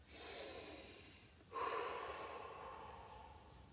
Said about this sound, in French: Vous inspirez par le nez et vous soufflez par la bouche.